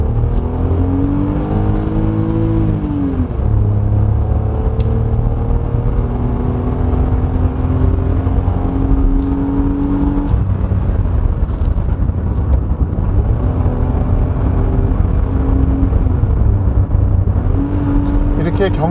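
A 2022 Hyundai Casper Van with a 1.0 gasoline engine drives a winding road, its engine note rising and falling through gear changes under a steady cabin rumble, with someone talking over it throughout.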